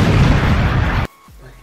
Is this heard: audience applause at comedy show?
no